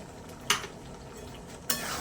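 Chicken being stirred with a couple of spoons of whipped yogurt in an oily pan for chicken tehari, two sharp utensil scrapes against the pan over a low steady sizzle.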